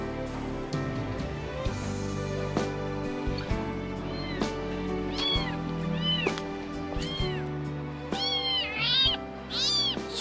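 A cat meows repeatedly in short rising and falling cries that grow more frequent toward the end, heard close up over background music.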